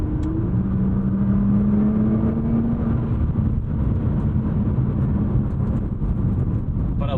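A Nissan R35 GT-R's turbocharged engine revs hard and steadily, its loud drone climbing smoothly through the rev range for several seconds without a break.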